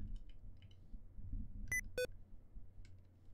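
Two short electronic beeps in quick succession from a computer caps lock alert, the second lower-pitched, over a low background hum.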